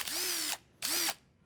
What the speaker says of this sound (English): here's your drill